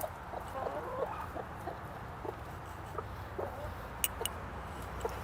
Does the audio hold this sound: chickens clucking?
yes